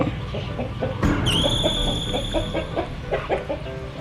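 Rooster crowing close by in a village yard, one loud drawn-out call rising and then holding, over repeated clucking from the fowl and a steady background hum.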